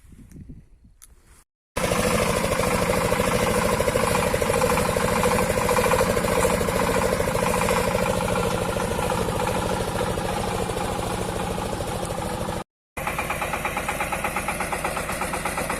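A Shifeng 240 mini tractor runs with a sprayer attached, its engine droning steadily and loudly up close after a brief start, with one short cut near the end and no speech.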